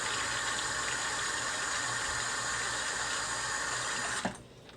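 Water from a sink tap filling a plastic bag halfway, a steady rushing hiss that runs evenly, then a brief clunk as the flow cuts off and near quiet follows.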